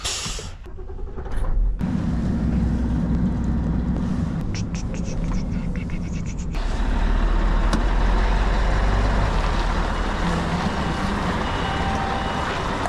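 An HGV truck is driven in to park, its diesel engine rumbling steadily with reversing beeps and brake hiss, while someone talks over it.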